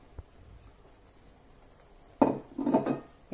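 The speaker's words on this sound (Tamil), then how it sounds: "எல்லாம் ஒன்றா சேர்த்து மிக்ஸ் பண்ணணும்." Scraping and clattering of a utensil stirring a thick potato masala mixture in a pan, a brief knock, then a few seconds of steady stirring.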